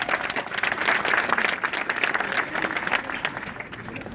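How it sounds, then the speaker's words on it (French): A crowd at a street rally to save the hospital in Guingamp breaks into applause, dense rapid clapping that swells and stays fairly loud before easing slightly toward the end. "N'applaudissez pas trop parce que vos applaudissements vont être plus longs que mon discours"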